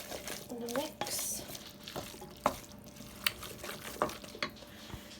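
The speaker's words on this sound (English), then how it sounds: "Give that a stir and a mix." Curried mince with sugar is stirred in a pan, producing soft scraping and a few sharp knocks of the spoon against the pan over a low sizzle, close and fairly quiet.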